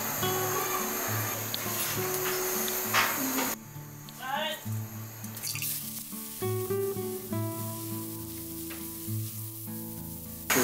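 A spoonful of ghee sizzles in a pan while chicken biryani cooks, a loud close frying hiss that briefly drops away midway before the sizzling resumes, with a voice heard faintly.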